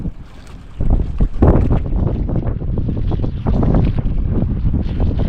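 Strong wind buffets a small fishing boat out at sea, a loud, continuous rush of wind noise over the microphone with water movement underneath, steady with a few harder gusts and no talking.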